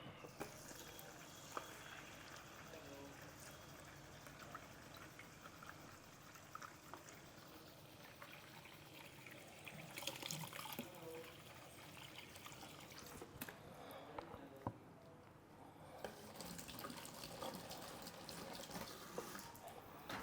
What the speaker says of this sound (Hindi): इसके अंदर मैं साफ पानी भर देता हूं